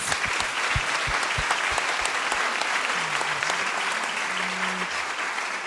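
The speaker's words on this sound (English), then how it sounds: "let's give them a round of applause" A theater audience at a hospice talk on dreams and visions of the dying gives warm, sustained applause, dense and steady throughout, with a few low hums or murmurs mixed in.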